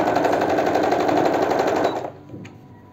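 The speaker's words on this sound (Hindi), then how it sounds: "तो हम इसे सिलाई लगा लेते हैं।" A sewing machine runs steadily while stitching a blouse, a continuous loud mechanical whir for about two seconds that then stops abruptly, leaving a faint click or two.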